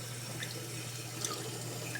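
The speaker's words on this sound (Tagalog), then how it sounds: "Dadagdagan pa natin ng tubig." Water pours steadily from a tap into a cooking pot in a home kitchen, a constant hissing splash with a low hum underneath and a few faint drips and clinks.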